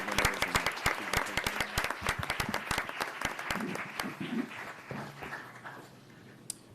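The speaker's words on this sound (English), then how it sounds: "Can we get one more round of applause for all of our award winners?" Applause for award winners at a Duval County School Board meeting, sharp individual claps over a crowd's clapping that gradually thins and fades out, with a last stray clap near the end.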